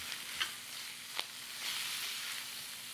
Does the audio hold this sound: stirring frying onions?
yes